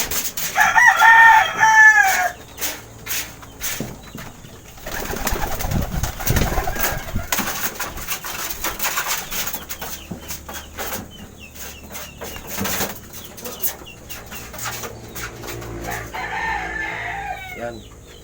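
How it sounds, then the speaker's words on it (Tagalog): Pet bird given as a replacement gift, with bright chirps and calls near the start and again toward the end, mixed with clucking fowl and crowing noises over a busy outdoor background. "Ito yung ibon na kapalit ng niram natin."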